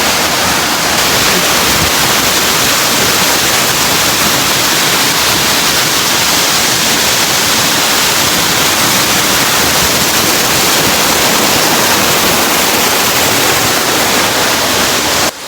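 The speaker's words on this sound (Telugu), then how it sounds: "ప్రజెంట్ అయితే ఇది 6 వాటర్ ఫాల్స్లో ఉన్నాము" Loud, steady roar of a waterfall, one of a series of seven falls near Seethampeta, filling the whole clip as a continuous broadband rush with no voices.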